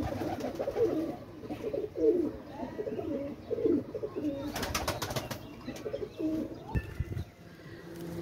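Teddy pigeons coo softly in repeated low, rolling phrases, with a brief flutter or clatter partway through and scattered chirps around them, heard at modest distance with no voices.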